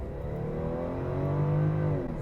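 A Toyota Soarer's engine revs up steadily as the car accelerates into a gap in traffic, a continuous close droning roar with rising harmonics held for a couple of seconds, no voices.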